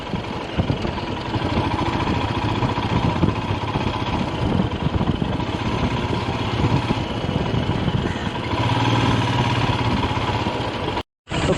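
A motorcycle engine idles steadily and close by on a bike trip through Raniganj and Asansol, its low continuous rumble holding even throughout before cutting out for a split second near the end.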